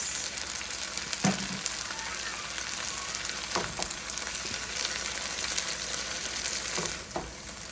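Taco meat browning in a pan, giving a continuous crackling sizzle with a few soft stirring scrapes and knocks, close and steady with no voices.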